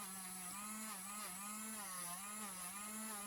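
Cordless rotary tool polishing a twisted-wire copper brooch, a steady high whine with a constant pitch that wavers slightly as pressure on the metal changes, close and fairly quiet, running alone without talk.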